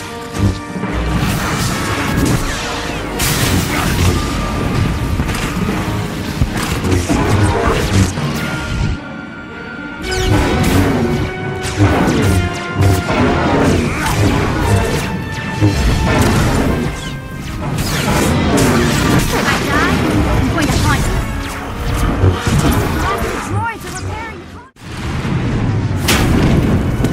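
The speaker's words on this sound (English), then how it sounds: "heard explosions. The tunnel collapsed." Heavy explosions and crashing debris as a tunnel collapses in the Star Wars: The Old Republic video game, a loud, dense barrage of booms and rumbling smashes running almost continuously with brief dips.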